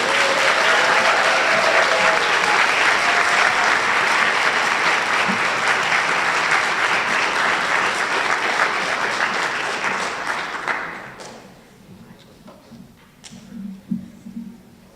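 Loud, sustained audience applause for fourth-grade spelling bee champions at a district spelling bee, steady for about ten seconds before fading quickly to scattered claps and quiet room noise.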